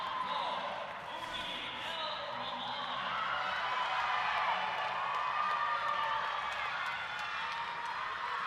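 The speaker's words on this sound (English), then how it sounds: "Oren Aviad getting a roaring applause following her finish" A crowd at a gymnastics meet between Brown and Yale gives a roaring round of applause and cheers after a routine, with steady clapping and shouting that swells in the middle and holds at a moderate distance.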